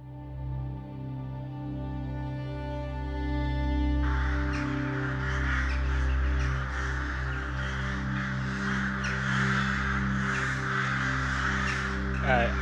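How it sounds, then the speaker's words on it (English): Several crows caw repeatedly outdoors, a busy overlapping chorus of harsh calls over a steady low drone, starting after a few seconds and continuing to the end. "These crows are freaking me out."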